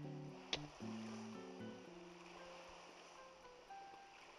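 Faint ocean waves wash at the beach in the video game Animal Crossing: New Leaf. The soft, steady surf sits under quiet sustained musical tones and a brief sharp click.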